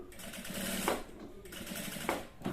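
A sewing machine runs steadily while stitching piping onto a salwar, a continuous close whirring with a few brief pauses and clicks, no talk over it.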